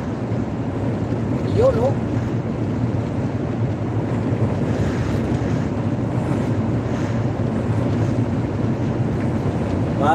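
Strong wind buffeting the microphone in a continuous roar, blowing sand and dust in Jeddah, with brief speech partway through.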